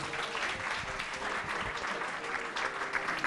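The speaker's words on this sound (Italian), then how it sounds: "Rosanna Carzedda, che accogliamo con un grande applauso" An audience at a maître d'hôtel competition gives a big welcoming round of applause for a female contestant, steady dense clapping that fills the room without pause.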